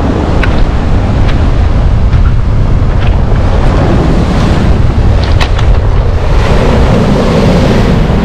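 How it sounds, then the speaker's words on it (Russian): Rough waves break and wash continuously on the Black Sea shore at Lazarevskoye, loud and close, while strong January wind buffets the microphone. "Смотрите, какие классные волны."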